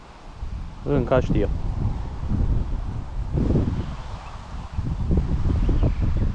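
Wind gusting at a lakeside fishing spot, rumbling steadily across the microphone throughout, while someone speaks briefly.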